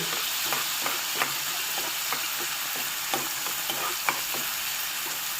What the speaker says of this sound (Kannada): ಈಗ ಒಂದೊಂದಾಗಿ ಎಲ್ಲವನ್ನು ಹುರಿಯಬೇಕು. ಮೊದಲಿಗೆ ಪಪ್ಪಾಯ ಬೀಜವನ್ನು ಹಾಕಬೇಕು. ಉದ್ದಿನಬೇಳೆಯನ್ನು ಹಾಕಿ,